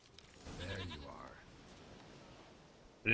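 A single goat in The Witcher 3 video game gives a short, wavering bleat at moderate distance within a quiet in-game scene, followed by a faint lingering ambience and a brief click at the end.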